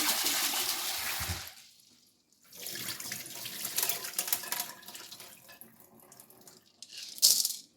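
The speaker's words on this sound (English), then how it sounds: "I'm going to be washing my beans in a cold water" Cold tap water runs from a faucet into a sink as beans are rinsed before boiling, a bright rushing splash that stops briefly midway and then resumes, ending with a small clink.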